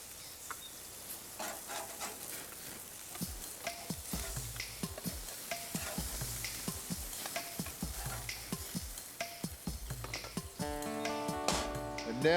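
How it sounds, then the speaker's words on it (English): Burgers fry in a pan with a steady close sizzle and spitting crackle. Sharp pops and bursts break through throughout, and the frying grows louder near the end. "Cook the burgers until just a hint of color remains in the center."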